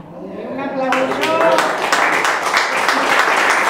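After a brief bit of speech, a crowd breaks into steady, sustained applause that fills the room and continues to the end.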